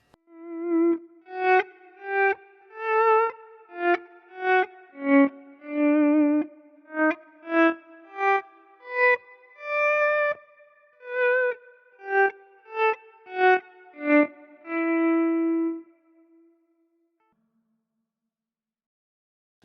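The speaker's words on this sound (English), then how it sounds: "this is where I'm hearing zippering, just using it as a volume pedal and doing single note runs" Electric guitar playing single-note runs with a volume pedal swelling each note in, a Fender Tone Master Pro setup with large hall reverb, producing stepped, zippering volume artifacts; about a dozen distinct swelled notes in a steady rhythm, then silence.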